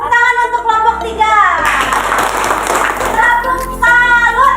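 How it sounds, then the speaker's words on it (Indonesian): Children in a classroom applaud for group 3, a burst of mixed hand clapping lasting a couple of seconds between stretches of voices talking before and after. "tepuk tangan untuk kelompok 3"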